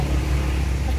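Low, steady engine rumble of a Putra Remaja bus pulling into a crowded terminal, a continuous idling drone close by.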